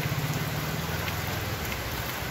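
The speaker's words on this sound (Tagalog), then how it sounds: "Umuulan. Na." Steady rain falling outdoors, a dense hiss of drops on surfaces with a low engine hum underneath, constant and fairly loud throughout.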